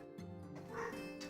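A dog barks downstairs in a home, several quick yipping barks at a moderate distance, running continuously through the short stretch with no talk over it.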